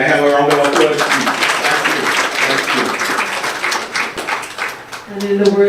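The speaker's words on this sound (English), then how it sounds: "Can I have a round of applause, please?" An audience at a coral reef book launch in Shaw Park, Tobago, breaks into steady applause. The dense, even clapping lasts several seconds at moderate level, with a voice speaking over it at the start and the end.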